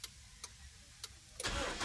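A Honda Revo motorcycle engine starts after a few faint clicks, catching abruptly and settling into a loud, steady running sound near the listener.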